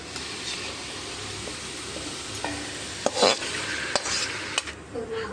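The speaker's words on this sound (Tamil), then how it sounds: "இப்போ நாம் இந்த சிக்கனை சேர்த்துக்கலாம்" Chicken being stirred into green mint-coriander ginger-garlic paste in a pan, with a soft steady sizzle and several clear scrapes and clinks of a spoon against the metal.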